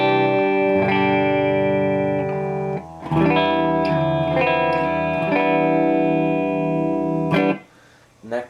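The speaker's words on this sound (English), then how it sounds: "I'm running straight into the amp with the guitar" An electric guitar on its middle pickup position, plugged straight into a Marshall JVM 410H amp with no reverb or effects, rings out in sustained chords and notes, loud and close, with brief gaps between strums.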